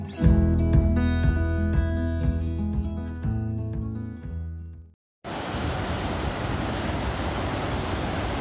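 Music plays for about five seconds, then cuts to the broad, steady roar of Pacific Ocean surf on Coronado Beach, California, constant and fairly loud, with some wind on the microphone.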